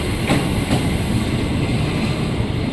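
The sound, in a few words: KRL commuter train to Jakarta Kota arriving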